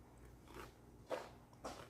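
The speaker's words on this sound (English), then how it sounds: "Now I'm going to eat it." Cheesy scrambled eggs made the German way are bitten and chewed close to the mouth, with a few soft crunchy bites spaced about half a second apart and quiet between them.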